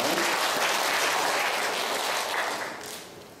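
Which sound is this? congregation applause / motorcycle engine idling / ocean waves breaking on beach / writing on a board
congregation applause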